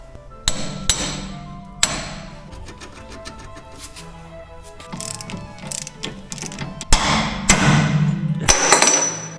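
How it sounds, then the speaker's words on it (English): Hammer strikes on a track rod end remover fitted to MK1 Golf suspension, several sharp metallic blows spaced irregularly with ratchet-like clicking in between, close and loud in a workshop. "Dad uses a track rod end remover."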